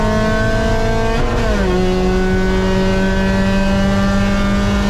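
A race car on a wet track roars loudly under full throttle from the cockpit. The engine pitch drops sharply once at a gear change, then holds a steady, buzzing drone.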